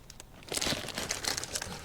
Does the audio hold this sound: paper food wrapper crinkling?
yes